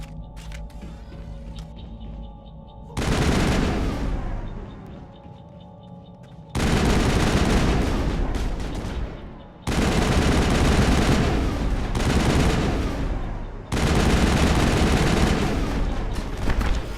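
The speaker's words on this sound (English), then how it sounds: "I'm gonna take one out with a sniper" Sniper rifle fire in Mass Effect against Geth on Eden Prime: four loud, close shots at intervals of about three seconds, each a sharp crack trailing into a long rumbling decay.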